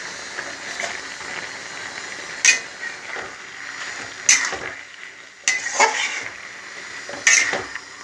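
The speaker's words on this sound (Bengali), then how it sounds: "দিয়ে আমি এবার ঢাকা দিয়ে দেবো" A lid is set on a pot of soybean and pointed gourd pulao topped with cashews and raisins, giving a few separate clinks and scrapes spread over several seconds against a quiet kitchen background.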